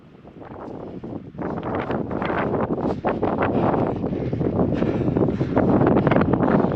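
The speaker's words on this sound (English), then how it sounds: "it's windy up here, but it sure is pretty." Strong wind on a mountain top buffeting the microphone in a continuous, gusty roar that grows slightly louder over time, with no voices.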